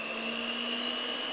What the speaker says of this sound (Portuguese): Batedeira não vai bater o chocolate tão inteiro ainda, né?